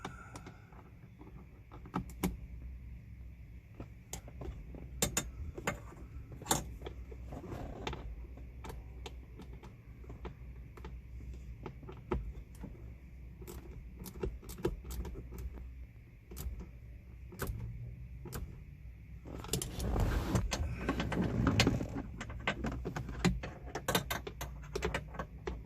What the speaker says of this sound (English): Just go back in a little snug with the ratchet.